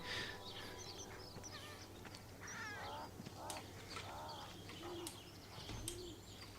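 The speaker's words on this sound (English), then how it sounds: "I like how there's actually different bird sounds." Varied bird calls in the video game Everybody's Gone to the Rapture: pigeon coos and scattered chirps repeat through a quiet ambient backdrop, moderately near, with faint talk in places.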